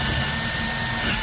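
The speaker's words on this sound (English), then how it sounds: "you can now drill the 2 holes" A power drill whirs steadily nearby, boring holes for a kitchen door handle, a continuous buzzing run with no pauses or talk.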